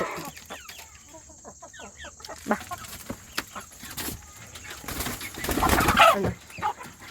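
Free-range native chickens cluck and call in a poultry yard as feed is scattered, with a busy mix of short clucks and chirps that builds louder and denser toward the end.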